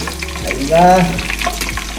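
Food frying and crisping in a hot pan on a rainy day, a loud continuous sizzle close by with a few scraping stirs and a brief surge of spitting oil, no talk.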